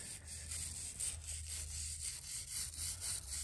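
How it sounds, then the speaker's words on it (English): A small stainless steel wire brush scrubs inside an engine block cylinder to clear a melted piston, making faint rhythmic back-and-forth scratching strokes over a low hum. "little stainless brush out, and this thing's definitely cleaning it up"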